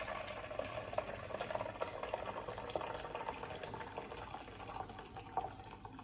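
About 0.8 litres of freshly boiled hot water is poured into a small bowl for homemade dish soap. A continuous, moderately quiet pour gushes and splashes for several seconds with no talking.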